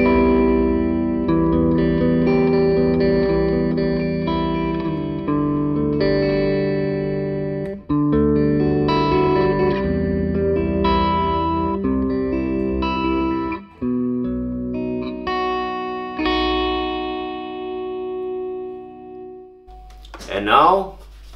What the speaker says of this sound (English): we will bring you the clean sounds of the Nash right into the Victory